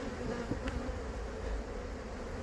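Honey bees hum steadily at an open hive during an inspection, a soft continuous buzz with no voices.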